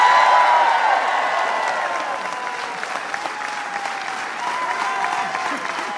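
A theatre audience at a musical applauds in a sustained, dense wave of clapping that fades slightly over several seconds, with faint voices underneath.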